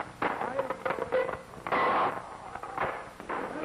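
A naval ship's gun fires during a crew drill at sea, giving loud, harsh blasts amid rumble and shouted orders from the gun crew.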